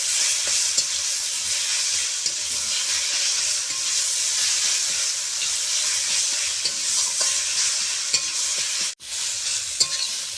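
Drumstick (sajna) bharta stir-fried in a pan gives a steady, close sizzle and hiss that runs unbroken, with small scraping stirs scattered through and a brief dropout near the end.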